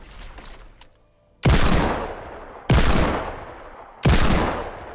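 Pistol fire in Fortnite Battle Royale: three loud, sharp shots spaced over a couple of seconds, each followed by a fading tail, after a quieter stretch of game ambience.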